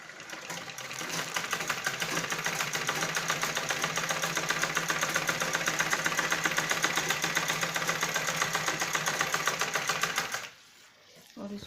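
A sewing machine runs fast and steady, stitching the side seam of a balloon salwar, its rapid needle chatter continuous for about ten seconds before stopping abruptly, with a brief soft sound after.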